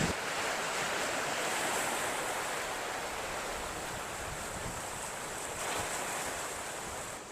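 Sea waves at high tide wash onto the sandy shore near Mubarak Village, a broad continuous roar of surf with wind noise, steady and fairly close, with no talking.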